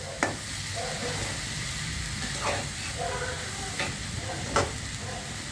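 A spoon stirs a tomato and cauliflower curry simmering in a pan, producing a soft steady sizzle. A few distinct scraping strokes against the pan surface at intervals sit under a quiet, close bubbling hiss, and there is no speech.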